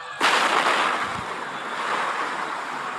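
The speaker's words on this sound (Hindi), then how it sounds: "तभी एक और धमाका" A sudden loud blast hits and then fades into a long, rumbling, noisy roar with no voices.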